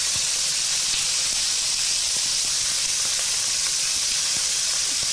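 Mallard duck pieces sizzle in a big frying pan for duck andouille gumbo, a steady hissing fry at moderate level with faint scattered pops and clicks throughout.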